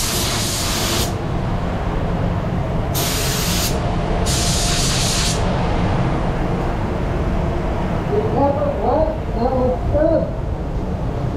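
Spray gun laying clear coat over a Mitsubishi Evolution in custom paint, steady loud hissing mist with brief bursts, under a continuous low background rumble.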